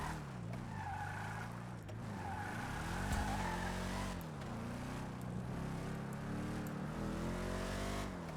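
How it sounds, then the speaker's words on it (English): A car engine revs steadily and loudly with pitch climbing and dipping through gear changes, accompanied by tire squeal, continuous and close with no voices. "This car's pretty good. I'm loving the engine so far."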